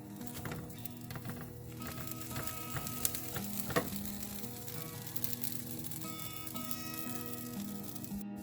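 A smoked salmon and cheese omelette frying steadily in a pan, a continuous close sizzle broken by a couple of sharp clinks and scrapes, with no one talking.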